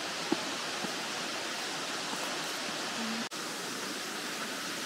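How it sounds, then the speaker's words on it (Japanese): An artificial waterfall at a sabo erosion-control dam along the Amagi walking route in Izu, Shizuoka, makes a constant, even rush of falling water, with no voices. "これは砂防ダムですね。 人工の滝です。"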